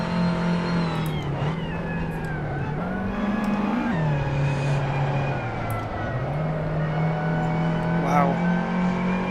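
Race car engine in the Assetto Corsa racing game drones loudly and steadily, its pitch dipping and climbing through gear changes and braking, with a voice talking over it.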